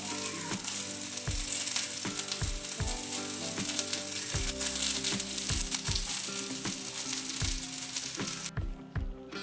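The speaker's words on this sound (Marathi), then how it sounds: "हाताने गुलाबी होईपर्यंत असा हलक्या हाताने भाजून घ्यायचा आहे." Masala spices dry-roasting in a pan for fish curry, a steady close sizzle with repeated scraping stirs throughout, no voices, cutting off sharply near the end.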